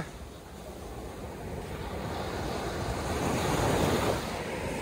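Sea waves wash ashore at the seaside of Mahboula, Kuwait, a steady rushing surf with wind buffeting the microphone, swelling gradually toward the end, no voices.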